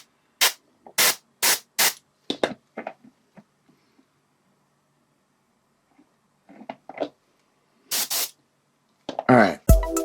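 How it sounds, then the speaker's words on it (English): An airbrush sprays paint onto a miniature in short, sharp hissing bursts, four quick ones close together at first, then a few more scattered later, with faint talk in between. "We'll get a nice harder spray from this direction."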